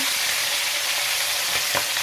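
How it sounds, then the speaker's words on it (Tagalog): Steady, dense sizzling of tuna frying in hot oil, continuous and fairly loud, with a couple of brief clinks near the end. "Magpiprito tayo ng tuna."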